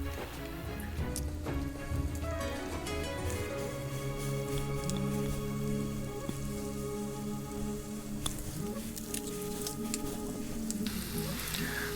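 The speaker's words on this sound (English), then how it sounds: "now we are going to fry them on a medium heat." Appam fry in hot oil over medium heat with a steady, dense sizzle and crackle. Small pops and spatters run throughout at close range, and no one speaks.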